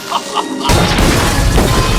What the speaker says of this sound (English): Limo Guy blows up John's car with John still in it.